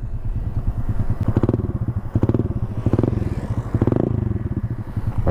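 A Honda Click scooter with no exhaust silencer idles close by with a loud, steady, throbbing putter and a rough, uneven pulse throughout, and no talking.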